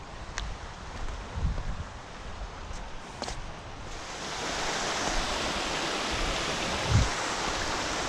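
Creek water flowing steadily past a fishing spot, a soft continuous rushing that swells a little louder partway through, with a few faint knocks and handling sounds nearby.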